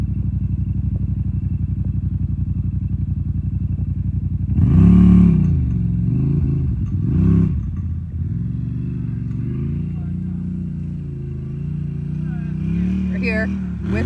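A Yamaha Rmax side-by-side on the sand dunes at Silver Lake, fitted with Schmidty racing springs and its differential locked, drones steadily with its engine, surging louder partway through as it climbs, with people talking over it.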